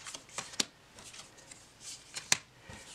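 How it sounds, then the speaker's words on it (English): A thin-cardstock tarot deck riffled and shuffled by hand, soft papery flutters with two sharper card snaps, close and quiet with no talk. "It's a little thin for me, but it's very shuffleable."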